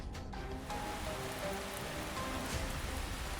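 Steady rain falling and pattering on a surface, a dense continuous hiss with scattered drops, even and close throughout.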